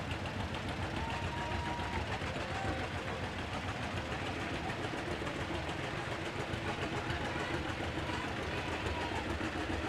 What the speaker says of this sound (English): with their antique tractors. Those are pretty. They look great. And they sound clean too.